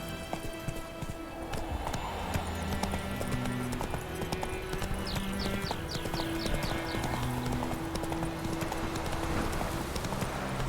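Horse hooves gallop in a steady clip-clop rhythm in The Witcher 3, close and continuous, with a faint whinny and ambient game music underneath.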